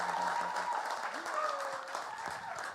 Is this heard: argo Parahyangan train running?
no